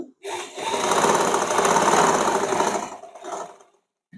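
A sewing machine runs one steady burst of about three seconds, stitching tucks on the front of a blouse. The whir is close and loud and sits alone between short quiet gaps.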